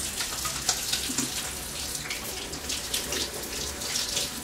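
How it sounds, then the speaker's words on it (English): Hands being washed under a running kitchen tap, a continuous close splashing hiss of water with small bursts of spatter as the hands move through the stream. "I gotta wash my hands"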